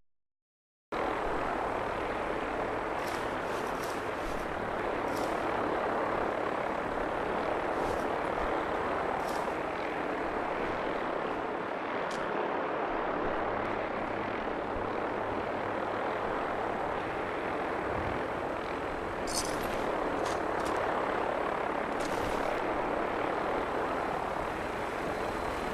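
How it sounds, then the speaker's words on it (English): A Vertibird helicopter in Fallout 4 sets down close by, its rotor whooshing and engine droning loudly and continuously throughout with no speech over it. "the chopper decided to land right on my teleportation device"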